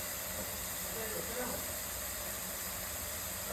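Curry leaves and spices frying in a hot pan give a steady, even hiss that holds at the same level throughout.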